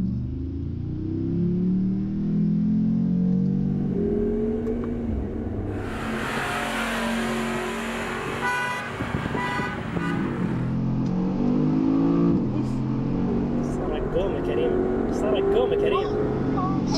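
A Mercedes G63 and a Bentley Bentayga V8 race, their engines revving and climbing in pitch, with a loud rush of wind and passing noise midway and voices talking over the engines throughout.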